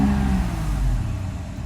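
A Mercedes 600SL engine revs steadily under acceleration, a loud, continuous low drone with no talking over it.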